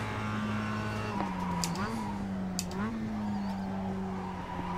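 A Mazda MX-5 race car in the iRacing video game on the Charlotte infield circuit keeps a steady engine drone. Its pitch dips twice as it brakes, with a voice talking over it.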